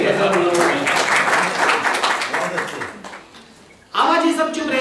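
Audience applause at a live Hindi poetry show, broad dense clapping filling most of the clip, fading briefly near the end before a loud fresh burst resumes.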